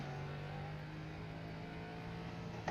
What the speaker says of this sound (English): As you guys do hear the turbo engine of this car, so classic Ligier LMP3 car.